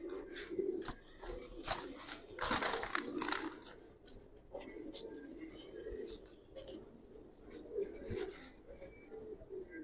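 Soft, low cooing of giribaz pigeons mingles with rustling and shuffling from the birds, the calls repeating unevenly through a busy, close background with people talking.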